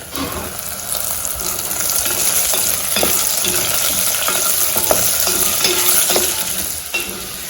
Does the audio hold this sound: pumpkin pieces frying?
yes